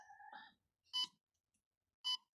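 In a garden, two short electronic beeps sound about a second apart after a brief faint tonal chirp; fairly quiet and close, with no talking.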